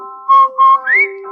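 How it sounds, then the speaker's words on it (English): A single person whistles a bright laundry-soap jingle tune in three clear phrases, the last sliding upward, heard alone over a steady low musical backing. "whistle while you wash"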